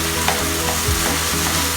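Jeera samba rice being stirred in a frying pan over high flame, with a steady close sizzle and the soft scrape of a spoon moving through the grains, no voices.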